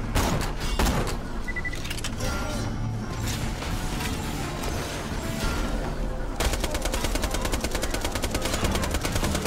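Constant loud gunfire rattles through a Borderlands 2 firefight, rapid bursts and repeated shots stacking over game noise, with a fast regular stream of shots near the end.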